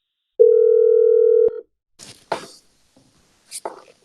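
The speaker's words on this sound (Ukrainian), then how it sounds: "Поль Павло 124-ї бригади ТРО, телефонує справжньому полю." A steady telephone tone sounds for about a second on an outgoing call, then stops; soft, brief voice fragments follow over a quiet line.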